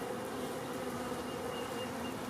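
Honey bees buzzing steadily at a hive after winter, a dense, even drone that holds at the same level from start to finish.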